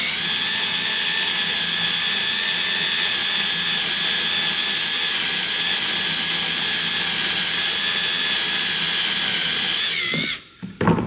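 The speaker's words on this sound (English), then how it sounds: "Get our hole drilled out." A power drill bores a hole into a 2022 Ford Super Duty interior panel for a gauge pod, its high, steady whine running loud and unbroken for about ten seconds before stopping abruptly.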